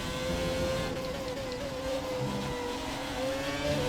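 Whining turbo race car engines in the F1 2017 video game drone continuously at a distance, pitch shifting slightly as they rev, with no talking.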